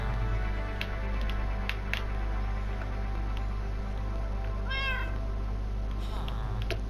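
A Minecraft cat gives a single short, clear meow partway through, over a steady game background hum.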